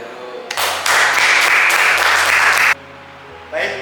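Students in a classroom applaud together, a dense, loud burst of clapping lasting about two seconds that stops abruptly, then a short smaller patter follows.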